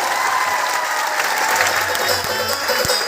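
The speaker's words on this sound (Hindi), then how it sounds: "एक बार तालियां बजा के दिखा दो" A large audience at an educational gathering in Ludhiana, Punjab claps on request, a loud continuous burst of many hands with a few low thumps underneath.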